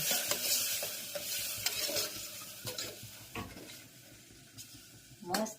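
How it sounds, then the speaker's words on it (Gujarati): Whole spices crackle and sizzle in hot oil as tempering for a vegetable curry, soft steady frying with occasional spoon stirs and pan clinks, fairly quiet and close. "મજાનો વઘાર થઈ ગયો છે"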